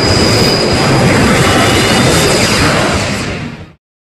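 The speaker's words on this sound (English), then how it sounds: "watch this really satisfying explosion" A loud, sustained roaring rumble of a train explosion in a video game, like a massive blast or rushing engine, that fades and cuts off abruptly near the end.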